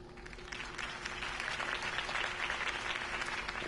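A crowd applauding steadily, dense clapping sustained throughout at even loudness, with no voices standing out.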